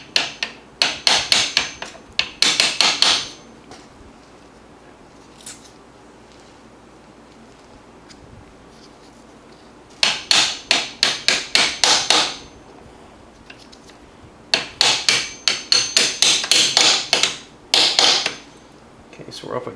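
A hammer taps a part into a Chrysler 727 automatic transmission during a TransGo shift kit install, sounding as close, sharp metallic strikes in quick bursts of several hits separated by quiet pauses.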